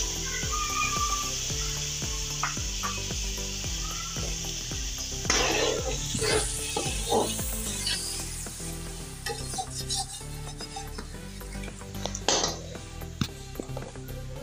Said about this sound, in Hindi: देखिए अच्छी तरह भुनाई हो रही है।